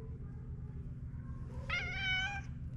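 A single drawn-out cat meow rises clearly over a low, steady background hum, close and moderately loud.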